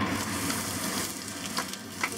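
Onions fry in hot oil in a pan over high heat, with a soft steady sizzle and a few faint stirring taps, fairly quiet and continuous.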